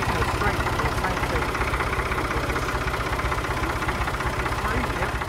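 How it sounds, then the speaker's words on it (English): A tractor engine idles on an orchard, a steady low throbbing rumble with a faint knocking pulse, close and constant throughout with no voices over it. "run the tractor, and then my dad got going"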